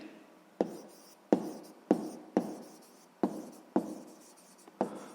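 A pen writes by hand on paper while working a sixth-grade math exercise. About eight crisp, close scratching strokes follow one another at an uneven pace in an otherwise quiet room.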